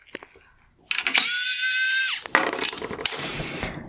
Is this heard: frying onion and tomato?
no